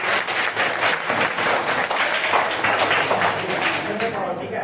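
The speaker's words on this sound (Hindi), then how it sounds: "तो उसके लिए ताली हो जाओ यार।" Students in a school classroom clap together in steady, dense applause that runs throughout at an even, fairly loud level, with a faint murmur of voices beneath.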